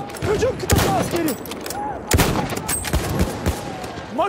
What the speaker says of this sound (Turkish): Makine tüfek.